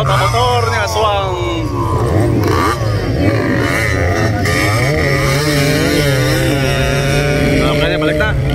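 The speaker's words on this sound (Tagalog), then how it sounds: "Nagpurot-purot ang motor ni Aswang" A racing motorcycle at an open beginners race sputters and revs its engine continuously, loud and rough with shifting pitch, while excited commentary is spoken over it throughout.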